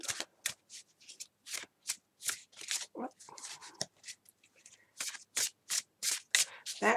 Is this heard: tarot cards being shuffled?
yes